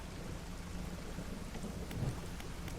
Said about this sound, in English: Oh, okay, thunderstorm,